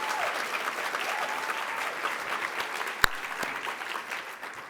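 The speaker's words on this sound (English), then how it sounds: "A big round of applause for Yosimar." Sustained applause from a conference opening session audience, dense steady clapping with a single sharper clap standing out near the end.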